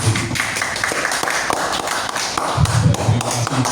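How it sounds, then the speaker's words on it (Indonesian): Seminar audience at a civil servant orientation applauding a speaker, a short burst of dense, close clapping that swells slightly toward the end. "Tepuk tangan untuk Mbak Doreen."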